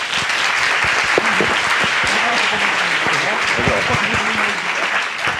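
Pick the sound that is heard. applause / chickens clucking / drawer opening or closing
applause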